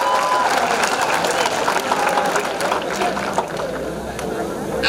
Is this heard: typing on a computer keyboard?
no